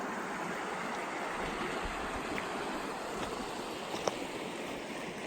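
A river flowing through a canyon near a cave, a steady rushing water noise with a constant even wash, no speech, and a faint click near the end.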